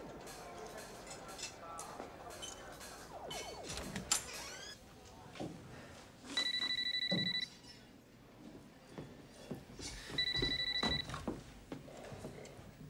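A telephone rings indoors in two bursts of electronic trilling, with people talking around it.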